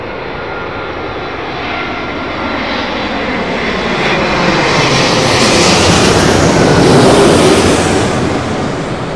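An airliner on arrival at Heathrow passes overhead, its engine roar swelling from a steady wash to a louder peak and easing slightly, broad and close with no voices.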